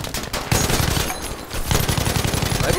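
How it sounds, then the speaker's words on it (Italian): Rapid automatic gunfire in the video game Battlefield V on a smoky battlefield, loud bursts of close shots with a short pause before the firing resumes in a fast, continuous rattle. "Sparo e non muoiono!"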